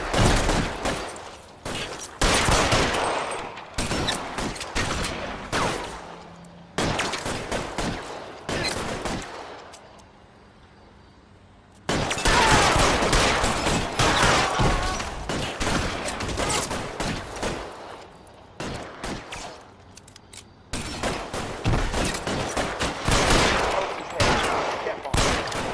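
A gunfight in the video game L.A. Noire: loud, dense bursts of rapid gunfire and volleys of shots pour out continuously, drop to a brief lull midway, then erupt again just as heavily.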